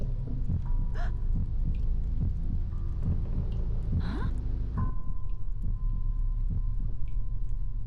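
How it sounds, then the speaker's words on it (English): In the horror video game Song of Horror, a steady, low heartbeat throbs in a regular rhythm beneath a droning ambient hum, with a few faint clicks and a brief tone; no voices. "Like, I heard a heartbeat."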